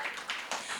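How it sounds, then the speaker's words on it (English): Brief burst of audience applause at a Miss Muslimah Ghana pageant talk show, a dense wash of hand claps swelling in two or three quick surges, moderately loud. "A round of applause, Aisha."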